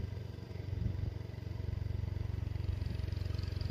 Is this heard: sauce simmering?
no